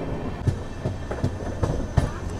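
Passenger train from Tirupati to Coimbatore running on the track, with a steady rumble and rhythmic clickety-clack of wheels over rail joints, heard from on board.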